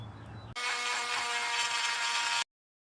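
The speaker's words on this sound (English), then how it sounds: "I'm going to use a flush cut tool and just gonna slice off the fitting right here." A flush cut tool whirs loudly for about two seconds, a steady buzzing grind as it slices off a fitting on a Subaru STI water pump, then stops abruptly into silence.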